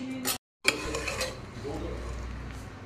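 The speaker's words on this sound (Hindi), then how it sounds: "ये कुकर हम खोल रहे हैं" Pressure cooker of jackfruit being opened in a home kitchen, with a sharp metallic clunk and clatter after a brief silence, then a soft steady hiss and faint clinks.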